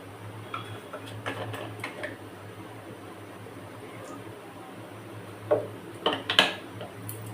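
Fish fry batter with water is whisked in a bowl, giving light ticking clinks at an uneven pace, quiet at first and then a few louder taps near the end, over a steady background hum.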